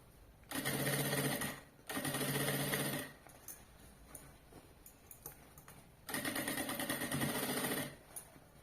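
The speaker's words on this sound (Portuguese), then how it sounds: "eu tô costurando no forro, bem na pontinha aqui. e vou costurar toda a volta" A sewing machine stitches along the edge of a bag's fabric lining in three loud, steady bursts of rapid mechanical chatter, with quiet pauses between them.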